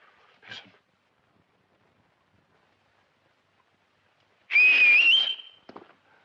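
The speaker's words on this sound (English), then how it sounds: "But I did learn how to whistle again." Quiet surroundings broken by a short burst of noise, then a loud rising whistle held for about a second, followed by a faint tail.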